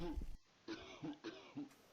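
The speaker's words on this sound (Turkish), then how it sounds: "Öksürüyor." A character in a Roblox game coughs several times in short bursts, with brief pauses between the harsh, throaty coughs.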